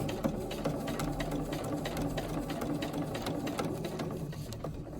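A sewing machine stitches along the hem of a pair of jeans in a continuous, rapid mechanical whir with a fast rhythmic needle clatter. It runs steadily and fairly quietly at close range, with no talk.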